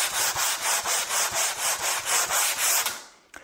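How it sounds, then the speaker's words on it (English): A Velcro-mounted abrasive pad sands the old finish off a table in even back-and-forth strokes, about four per second, close and loud, before stopping with a small knock. "I've cut down a piece of Velcro compatible abrasive, mounted it onto a pad"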